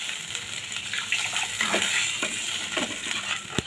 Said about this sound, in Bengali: এবার এখানে জল দেবো।